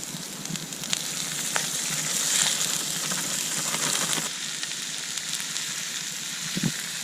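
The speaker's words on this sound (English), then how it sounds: "And so we're just going to pop on in our ground beef. Hopefully it doesn't splatter all over us." Ground beef and browned onions frying on a camp stove outdoors, a steady broadband sizzle with crackling pops throughout, a brief louder burst of spattering midway, then a slightly quieter hiss, with no talking.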